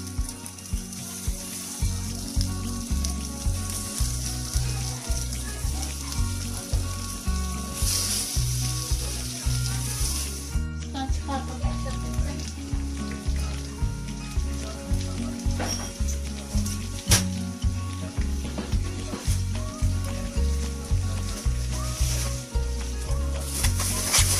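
Köfte meatballs fry in a little oil, a loud continuous sizzle and crackle with regular rhythmic pops and a clear jump in intensity midway.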